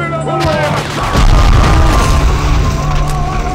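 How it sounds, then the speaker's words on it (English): A grenade launcher firing in the PS2 game Cold Winter, a heavy, compressed, bass-boosted boom that swells and rumbles on loudly for several seconds. "here's what the grenade launcher sounds like"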